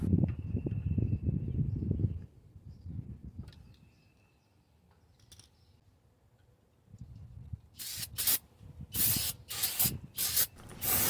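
Aerosol brake cleaner sprayed onto car brake parts during a rear wheel bearing job, heard as a series of sharp hissing bursts of varying length near the end, after quieter workshop handling sounds and a near-silent pause.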